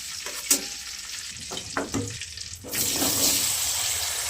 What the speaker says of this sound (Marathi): बटाटा तळून घेऊ